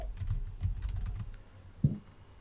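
Keys tapped on a computer keyboard in a short, soft run of clicks, quiet and close, ending with one slightly louder keystroke.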